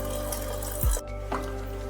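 Water poured into a pressure cooker pot while making a salad dish: a brief close splash and trickle lasting under a second, with a low steady background hum.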